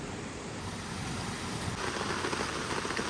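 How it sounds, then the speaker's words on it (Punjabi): Rain falls on a hillside trail in Himachal while walkers come down from a waterfall, a continuous soft patter and hiss that thickens slightly partway through. "ਵਾਟਰਫਾਲ ਤੋਂ ਉਤਰਦੇ ਉਤਰਦੇ ਆਪਾਂ ਨੂੰ ਮੀਂਹ ਨੇ ਘੇਰ ਲਿਆ"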